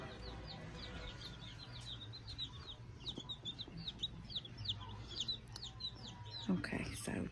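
A flock of chickens clucks and chirps steadily outdoors, close and continuous, under people talking.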